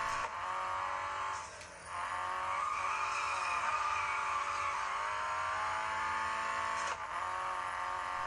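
Racing car engine roars steadily in the mobile game Real Racing 3, with revving, tire skids and brief dips as gears change, loud and continuous without any talk.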